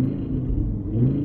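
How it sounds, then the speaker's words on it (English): Fiat Marea Weekend HLX estate with its 20-valve engine, about 200,000 miles on it, idling steadily: a close, continuous low rumble with a smooth, even note and no voices. "Such a lovely sounding engine."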